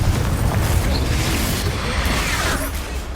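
A spell explosion in the Hogwarts Legacy game, a dense, continuous booming roar with heavy low rumble that fills the whole stretch at high volume, with no distinct separate blasts.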